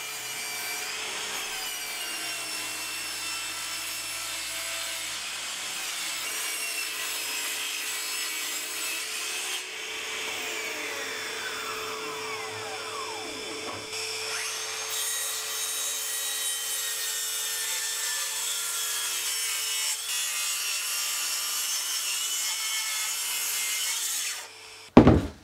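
A track saw cuts a pallet wood board in one long, steady whine of blade through wood that holds for over twenty seconds, then stops abruptly at the end.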